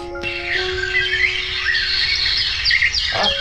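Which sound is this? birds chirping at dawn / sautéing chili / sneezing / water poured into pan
birds chirping at dawn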